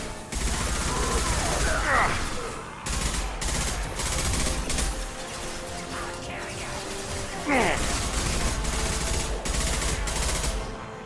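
Heavy rapid gunfire with hard recoil in Mass Effect 2, dense repeated shots broken by brief gaps, with someone talking over the shooting.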